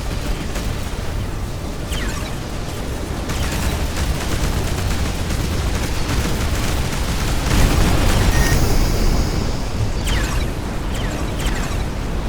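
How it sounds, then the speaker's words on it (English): Video game space battle where an enemy blows up his own men, a dense, loud barrage of booming explosions and rumbling blasts layered continuously with sharper hits popping through. "That coward is blowing up his own men to dent our defenses."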